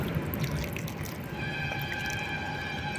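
Homemade liquid NPK fertilizer poured onto loosened, dried plant soil, a steady close trickle and drip of liquid running alone throughout.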